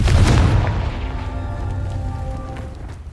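A Confringo fire spell from the game Hogwarts Legacy bursts with a deep, loud boom, followed by a crackling, rain-like scatter that fades over a few seconds.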